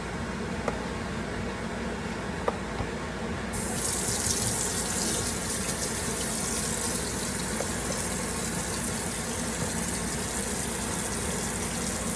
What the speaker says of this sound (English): letting that hot water just run that grease down